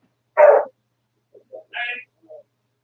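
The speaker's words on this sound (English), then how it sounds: "sorry, my dogs are fighting." Dogs in a house bark in short separate yips and woofs, one loud close bark followed by several fainter, higher barks and whines spread over a few seconds.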